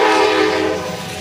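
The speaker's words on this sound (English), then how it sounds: "That's a train, ladies and gentlemen." A passing train sounds its horn loudly and close by, one sustained blast that fades slightly toward the end.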